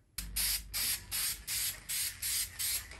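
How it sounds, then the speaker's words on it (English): An aerosol spray can laying a coat of white paint onto a car emblem, with about seven even, close hissing bursts in a regular rhythm, each lasting roughly a quarter second. "one final coat of the white paint before we do clear"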